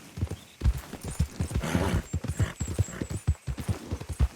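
Horse hooves clip-clop and gallop in a steady rhythm in Red Dead Redemption 2, loud and close, with a brief whinny and some game sounds mixed in.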